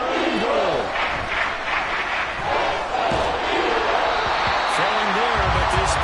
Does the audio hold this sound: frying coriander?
no